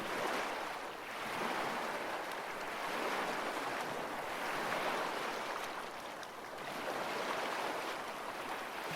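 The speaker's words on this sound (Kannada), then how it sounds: "ಸಮುದ್ರದ ಅಲೆಗಳ ಶಬ್ದವನ್ನು ಆಲಿಸಿ" Steady ocean waves wash in a continuous, gently swelling roar, rising and easing in slow surges with no voices, soft and even throughout.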